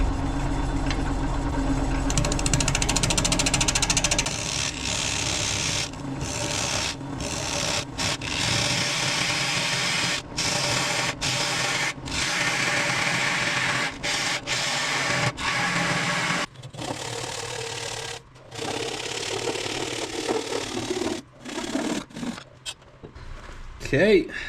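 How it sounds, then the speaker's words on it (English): Parting tool cutting a woodturning piece off a spinning lathe, a steady rough scraping hum broken by short pauses as the cut goes on and off, with speech heard during it. "get our parting tool out,"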